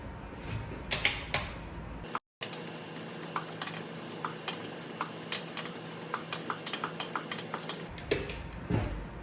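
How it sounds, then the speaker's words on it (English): Torque wrench tightening wheel nuts on a Dodge Grand Caravan, heard as close, quiet metallic clicks and ratchet taps in an irregular series with a brief silent gap. "you want to torque the wheel nuts to 100 foot-pounds in a star-shaped pattern"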